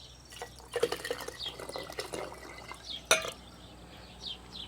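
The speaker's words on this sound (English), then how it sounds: "I'm just going to pour some of this back in here to get the rest of that salt." Water poured into a fermenting jar to rinse out salt, splashing and trickling up close with scattered drips and one sharp glassy clink partway through.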